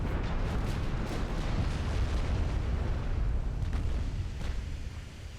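Naval guns boom in the warship game Ultimate Admiral: Dreadnoughts, aboard the battleship Fuso: a dense, continuous low rumble of distant explosions with faint sharper cracks, steady and moderately loud throughout.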